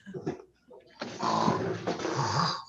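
A voice imitates snoring with a couple of short, soft snorts followed by a long, loud, rasping snore, close up.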